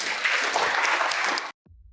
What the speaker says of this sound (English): give a round of applause for Nathan and Anton